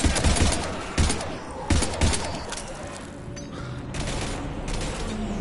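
Gunfire in the video game Mass Effect 3, loud bursts of rapid automatic shots with heavy thumps in the first two seconds, then quieter scattered fire and mechanical clatter.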